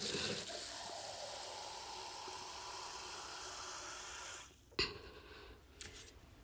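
A steady stream of water pours into a cup for several seconds, then stops, followed by a couple of faint clinks and knocks.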